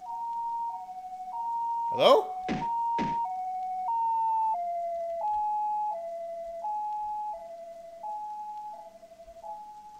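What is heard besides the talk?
ambulance siren in a video game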